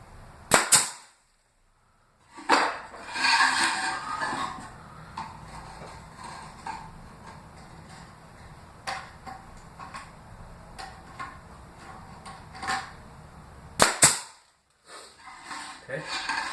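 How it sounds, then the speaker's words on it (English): Sharp single pneumatic cracks from a nail gun drive nails into the corners of a mini greenhouse frame, with a few spaced shots and quiet handling noise between them. "We'll go ahead and shoot one nail in"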